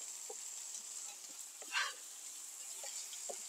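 Chopped food is stirred and sautéed in a pan, giving a soft, steady sizzle broken by a few faint scrapes and taps of the utensil.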